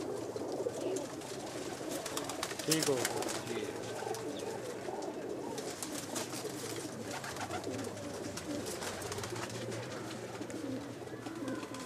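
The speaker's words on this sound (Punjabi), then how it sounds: "ਇਹ ਬਾਈ ਜਾਨ ਸਾਡੇ ਲਾਲ ਤੂਫਾਨ ਕਬੂਤਰ" Lal Toofan pigeons coo in a continuous, soft, layered murmur of many birds close by, with a brief spoken word or two.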